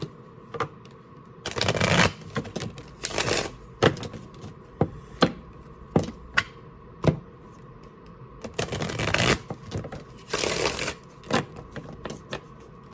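Tarot cards are shuffled close up in a series of quick riffling bursts, with sharp taps and soft clicks between them, in an otherwise quiet room.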